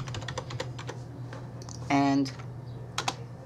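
Typing a password on a computer keyboard: a run of close, crisp keystroke clicks at an uneven pace, with a brief spoken word and a short tonal sound partway through.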